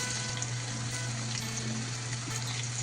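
Potatoes frying in oil in a pan for a Bengali prawn bati chorchori, a steady soft sizzle with a low constant hum underneath, faint and even throughout.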